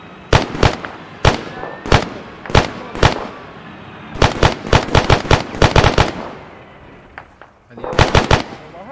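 Sharp gunshots ring out in short bursts, single cracks and rapid clusters, loud and close, during an Arma 3 firefight with warning shots fired.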